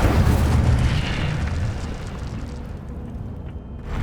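A fire spell cast in Hogwarts Legacy, the Incendio charm, bursts out as a loud, rumbling whoosh of flame. It is strongest at the start, then settles into a sustained crackling roar that tapers slightly.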